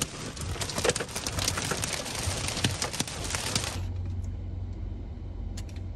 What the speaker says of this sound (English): Hail is hitting my car.